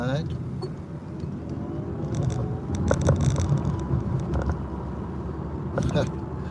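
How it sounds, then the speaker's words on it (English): Electric motors of a Lucid Air car whir under acceleration on a road trip, a rising tonal whine over steady road rumble, with a person talking over it. "Like the motors sound pretty healthy when you get on it."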